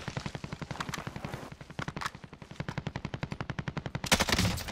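Rapid automatic gunfire from a player's weapon in Modern Warfare Warzone, long bursts of evenly spaced shots close and loud, ending in a heavier blast of fire.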